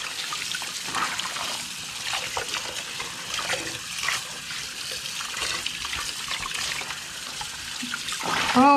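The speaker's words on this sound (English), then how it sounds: "let's drain that and we'll rinse it again." Water running and trickling in a sink as fabric with meltaway stabilizer is drained and rinsed, a steady close splashing flow with soft sloshes throughout and a brief squeak at the end, no talking.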